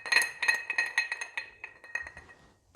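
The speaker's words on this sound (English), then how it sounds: "add it in with the ice and give it a swish around" Ice balls swished around a cocktail glass coated with bitters, giving a quick run of bright glassy clinks and rattles that fade out, then a single sharp knock at the end.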